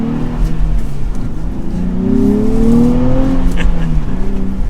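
A 2024 Nissan Z engine revs as the car accelerates on a test drive, a loud, close sustained engine drone rising in pitch and then settling, heard from inside the car.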